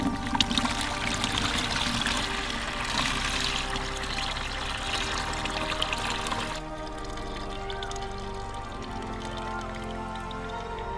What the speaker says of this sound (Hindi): तो पानी को अपन छान लेते हैं ताकि जो बाकी की चीज़ें हैं वो वैसी की वैसी रह जाए।